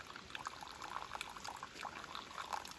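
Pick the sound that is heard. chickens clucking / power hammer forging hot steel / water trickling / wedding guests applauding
water trickling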